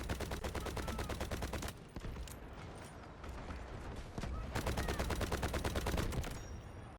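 An M250 light machine gun fires in the game Delta Force: two long, loud bursts of rapid, evenly spaced shots, close up, split by a short pause with mechanical clatter.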